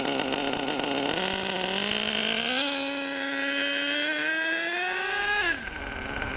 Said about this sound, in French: Lorsqu'il est bien réglé, le moteur doit tourner régulièrement à haute vitesse